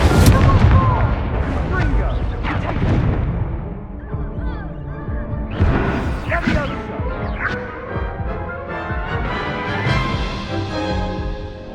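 The Incendio fire spell is cast during a Hogwarts Legacy duel: dense, loud blasts and crackling bursts overlap with a busy game soundtrack and clashing effects throughout.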